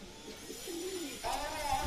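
A male local deshi pigeon gives a short low coo up close, followed by a rising tone, while a person talks over it.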